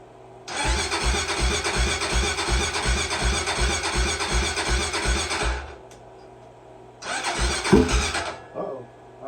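A 2008 Honda 400EX ATV engine with a loose tailpipe fires up loud and close, running in a rapid, steady chug for about five seconds. It cuts out, then briefly roars again.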